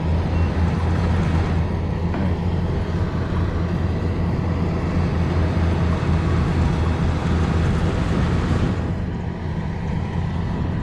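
Kubota DC95 combine harvester engine running at around 2,300 rpm while harvesting a muddy rice field, a loud, steady, close diesel drone with strong low rumble that stays constant throughout, with no one talking.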